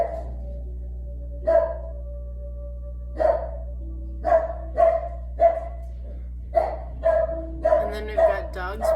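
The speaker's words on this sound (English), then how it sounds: "And then we've got dogs barking." Several dogs bark in short, spaced single and double barks over a steady low hum, growing busier and overlapping toward the end.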